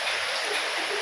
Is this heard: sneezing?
no